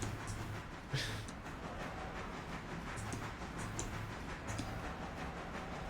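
A train rolls past in the railroad simulation game Railroader, a faint, steady rumble with light rail clatter and occasional sharper clicks, heard alone.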